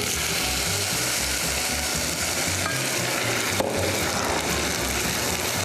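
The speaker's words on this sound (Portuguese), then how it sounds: "Esse vinho é vinho branco seco e quando a gente jogar, ele vai sfumare" Loud, steady sizzling and bubbling as dry white wine hits a hot pan of parmesan risotto with vegetables, a dense continuous hiss with faint clinks.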